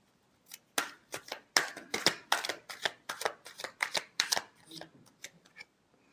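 Tarot cards shuffled by hand up close, a quick run of crisp papery riffling bursts that come in uneven clusters and then taper off, with no talking.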